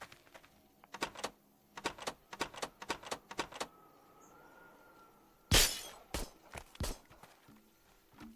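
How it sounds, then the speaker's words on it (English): Window glass smashed in the VR zombie shooter Arizona Sunshine: one loud, sharp crash with a bright scattering burst, after a run of rhythmic thuds and followed by a few more impacts. "I smashed the window"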